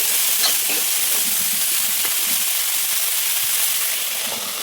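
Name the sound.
washed shatavari (asparagus) sautéing in a pan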